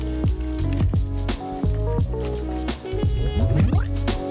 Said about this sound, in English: Can you hear the sound? I guess that's the dry soil soaking up the moisture.